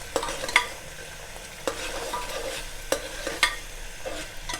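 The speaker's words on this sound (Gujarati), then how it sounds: "બરાબર મિક્સ થઈ જાય ત્યાં સુધી હલાવવાનું." Chana frying with ginger, chili and garlic paste is stirred in the pan, giving a low sizzle under several spaced scraping clinks of a spoon against the pan, close and clear.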